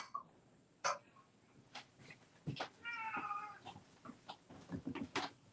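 A pet cat gives a short meow indoors during a live sale, a brief tonal call standing out amid faint household noises and scattered knocks.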